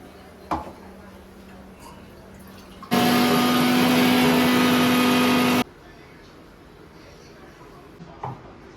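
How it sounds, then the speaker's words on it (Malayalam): A mixer grinder blends cumin, garlic and shallots with a splash of water in a kitchen, roaring in one steady, loud whirring burst of about three seconds before cutting off to quiet room noise. "ഇതിലേക്ക് ഇത്തിരി വെള്ളം ഒഴിച്ച് അതൊന്ന് അരച്ചെടുക്കാം"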